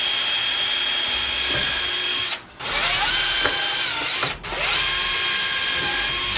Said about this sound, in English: so I could pre-drill a few holes